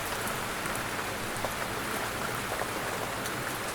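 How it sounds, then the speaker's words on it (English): Steady, dense rain patters against a window, an even, close hiss of countless drops with no pauses and no voices. "The rain taps at the window."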